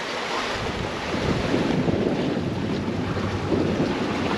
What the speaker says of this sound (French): Le vent est monté pendant le déjeuner,